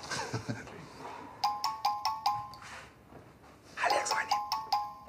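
A phone rings with an incoming call, sounding several repeated electronic ringtone bursts in two groups, fairly quiet, with a voice speaking in between.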